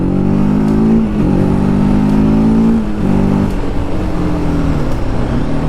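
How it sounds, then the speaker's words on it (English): A loud TVS Apache RTR 310 motorcycle engine close by, its pitch climbing and dropping through repeated revs with steady road rumble underneath. "I am revving too much at this place"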